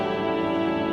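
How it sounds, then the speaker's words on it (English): A flugelhorn motif from the Disco Elysium soundtrack plays as a sustained, rich brass tone that holds steady and full for the whole moment with nothing else over it. "that flugelhorn motif comes back."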